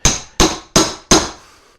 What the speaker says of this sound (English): So we're going to grab that and the hammer and then basically bang the back of the